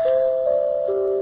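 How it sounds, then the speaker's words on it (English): A doorbell chime plays a short Chopin phrase: a few clear, sustained tones stepping downward, close and alone with no voices. "Ooh, listen to that doorbell. Chopin,"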